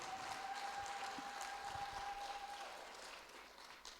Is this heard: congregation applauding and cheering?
yes